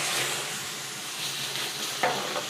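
Onions are dropped into nutty brown butter and sizzle loudly and steadily up close, with a single sharp clack near the end.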